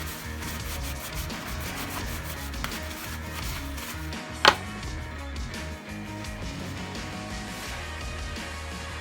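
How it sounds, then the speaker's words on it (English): Tyre shine is buffed by hand into a plastic engine component on a classic Mini: steady, close rubbing and scrubbing strokes throughout, with one sharp click partway through and no speech. "Just going to rub it into the material and then buff it off."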